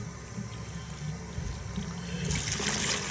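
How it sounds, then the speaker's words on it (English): Tap water runs and splashes while soap is rinsed out of a rotary rock tumbler barrel, a steady trickle that grows into a louder, brighter gush toward the end. "you want to rinse all the soap off, and you want to get all the soap out of your barrel"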